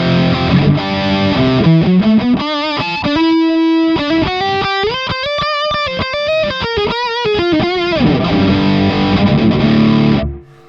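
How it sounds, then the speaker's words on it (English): The Audio Assault plugin's distortion effect gives a heavily fuzzed, buzzing instrument line a crunchy tone. It plays a melodic run of sustained and shifting notes for about ten seconds, then cuts off abruptly. "I'm going to use the distortion."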